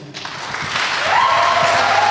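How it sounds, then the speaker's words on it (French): An audience at a political speech breaks into loud, sustained clapping that swells and holds steady, with a faint whistle-like tone rising above the crowd. "ils ont applaudi à la fin"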